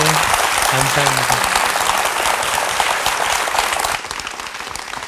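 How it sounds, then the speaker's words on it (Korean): Audience applause at a Korean televised charity event, loud and sustained for about four seconds and then easing slightly, with a brief spoken thank-you over it. "박수로 격려해 주시겠습니까?"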